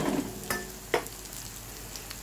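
Spice masala for a light chicken curry fries in oil, a soft, close sizzle with a couple of brief spoon scrapes against the pan.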